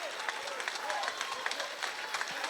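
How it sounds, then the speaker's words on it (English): Crowd at a women's MMA fight cheering as the round-ending buzzer sounds: a steady roar of cheers and scattered clapping, fairly distant, with a voice talking faintly over it. "The crowd loves it as the buzzer goes off. Listen to the crowd."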